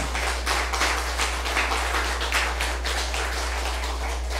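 A church congregation at a Sunday worship service claps to welcome a guest, giving a steady, moderately loud spread of hand claps over a low constant hum, with no voices.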